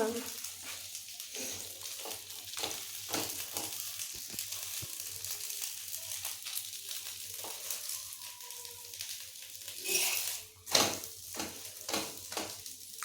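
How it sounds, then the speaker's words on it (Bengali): Rotis frying on a pan with a little oil give a soft, steady sizzle under light clinks and handling sounds, with a louder clatter of cookware near the end. "দুটো রুটি কিন্তু ভালো করে এপাশ ওপাশ ভেজে নিতে"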